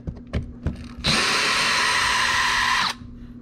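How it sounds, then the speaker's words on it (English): A power drill in reverse whirs steadily for about two seconds, removing T25 bolts from a Chevy Malibu trunk button, close and loud, after a few light clicks and knocks. "Get your drill, put it in reverse."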